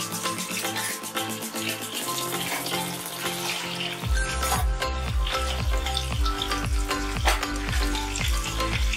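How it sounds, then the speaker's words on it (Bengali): Chopped onion dropped into hot oil with fried whole spices for a Bengali koi fish curry, giving a loud, steady hissing sizzle with scraping stirring strokes throughout, no talking. "পেঁয়াজটা হালকা ভাজা ভাজা করে নেব, বেশি ভাজা করা দরকার নেই"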